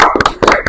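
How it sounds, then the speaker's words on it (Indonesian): A quick burst of hand clapping from a small group welcoming a guest in a psychology talk-show studio: a handful of sharp, close claps in a brief uneven rhythm. "Tepuk tangan dulu dong."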